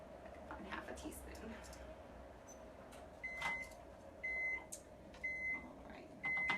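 Kitchen appliance beeping as a diabetes-friendly chocolate cake finishes cooking: four short evenly spaced electronic beeps, moderately loud, over a faint steady room hum with a person talking softly in the background.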